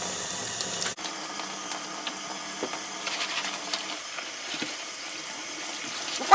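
Tap water runs steadily into a sink while gloves are washed while cleaning around the home, a continuous close hiss and splash with small clinks and shifts partway through, no voices.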